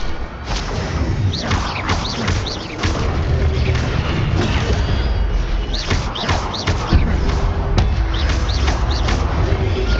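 Spells cast in Hogwarts Legacy, including the Incendio fire spell, erupt in loud repeated whooshes, bursts and booming impacts over a continuous swirl of game effects, with no talking.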